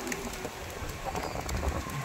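Soft low cooing of pigeons feeding on grain on a seashore by the Arabian Sea mixes with a busy outdoor background and some nearby voices.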